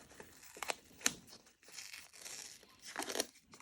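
Tape and paint being peeled off a pressboard dresser, a faint close crinkling and tearing in several short ripping bursts with quieter gaps between them.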